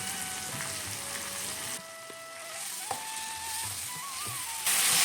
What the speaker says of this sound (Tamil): நல்லா புதினாவோட அந்த ஈரப்பதம் போகிற வரைக்கும் நல்லா வதக்கணும்